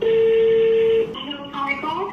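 A phone placing a call, starting with a loud steady dial tone held for about a second, then quieter electronic ringing tones and beeps.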